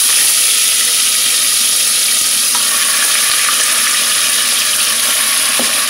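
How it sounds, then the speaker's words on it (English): Mutton frying in a pot, a loud, dense, steady sizzle with faint crackles and an occasional clink, continuous from start to finish without talk. "First we have to fry the mutton in the pot."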